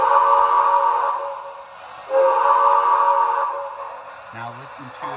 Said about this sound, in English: First, we'll listen to the whistle.